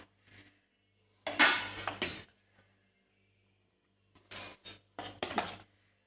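Pancake batter of whole wheat flour, banana and baking soda is beaten in a bowl with a utensil, giving a few short bursts of clinking and scraping separated by quiet pauses.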